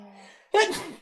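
A single sharp sneeze bursts out close by after a short indoor lull, breathy and loud, fading within half a second.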